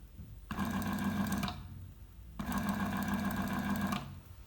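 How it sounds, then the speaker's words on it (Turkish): An electric motor strains under heavy load in two long bursts of buzzing whine, each about a second and a half long, separated by a short quieter pause, close and steady, with no speech. "Çünkü buradaki motor çok aşırı zorlanıyor ve elimdeki pilim ısınmaya başladı."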